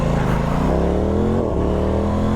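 An Aprilia Tuono 660 motorcycle fitted with a quickshifter accelerating hard, its engine note climbing steadily with a quick shift around the midpoint, loud and close with heavy wind rumble.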